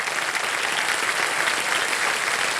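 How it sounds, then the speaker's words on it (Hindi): Loud, dense studio audience applause on the Indian quiz show Kaun Banega Crorepati, a steady roar of clapping with no talk over it. "जोरदार तालियां बज जाए पवित्रा जी के लिए।"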